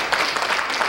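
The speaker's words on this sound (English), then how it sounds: "Give the Lord a hand clap if you will." Worshippers at a Christian church service clap their hands for the Lord in a quick, busy patter of many claps close together. The burst is short and fairly loud, and no one speaks over it.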